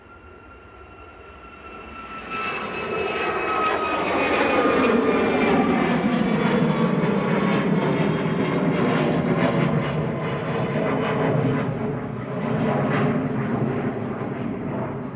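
An aircraft passes at Manchester Airport, its engine roar swelling in after a quiet start and holding loud and broad for several seconds with a falling whine, no voices over it.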